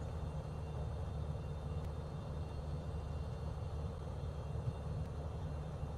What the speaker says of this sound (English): So I've been flying a dual prop plane.